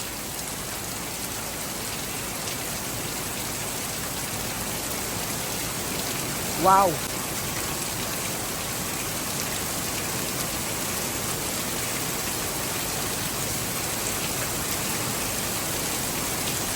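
Heavy rain pours down in a steady, dense wash that runs the whole length, with one brief exclamation from a person partway through.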